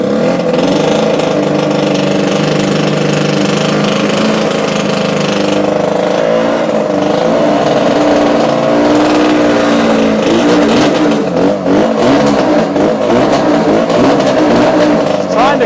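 A Yamaha RZ350 two-stroke motorcycle engine sputters into life and runs loud and close, its revs rising and wavering unevenly as it struggles to keep going.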